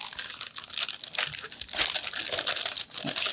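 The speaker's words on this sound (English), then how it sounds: "Sorry about all the crinkling." Card-making kit packaging being opened, producing continuous close crinkling and rustling of plastic wrap with brief tearing bursts, loud and dense throughout with no talking.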